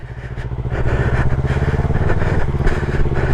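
A learner rides a motorcycle while being taught, the engine running steadily and close by with a low, rhythmic pulsing throttle that swells slightly over a few seconds, with no talking.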